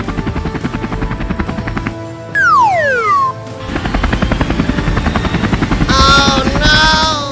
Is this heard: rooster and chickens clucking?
no